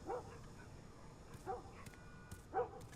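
Dog barking in The Last of Us Remastered, three sharp, distant, quiet barks spaced about a second apart over a faint low background.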